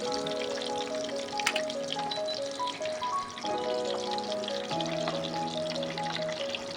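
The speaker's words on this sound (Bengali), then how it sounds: "তেলটাকে ভালো করে গরম করে নিই। এবার একটা দিক ভালোভাবে লালচে লালচে করে ভাজা হলেই অপর দিকটা উল্টে দেবো।" Chicken keema chomchom frying in hot oil, a dense, even sizzle and bubbling that holds steady close up, with faint tonal hum from the kitchen running underneath.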